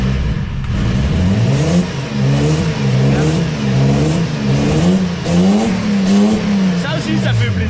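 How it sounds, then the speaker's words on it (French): A BMW 320i E36 with its 2-litre naturally aspirated six-cylinder engine revs loudly and repeatedly, pitch rising and falling in rapid surges close by, with a voice talking over it. "Ça aussi, ça fait plaisir, un vrai petit 6 cylindres."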